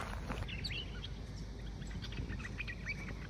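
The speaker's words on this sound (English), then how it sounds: "You can hear the birds in that tree." Small birds chirp and call from a tree in the Australian bush, faint and somewhat distant, with scattered short tweets over a steady low outdoor rumble.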